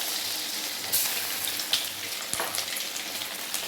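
Vadai batter for vadakari frying in hot oil, a continuous close sizzle and bubbling with a few sharper spits and clatters, no talking.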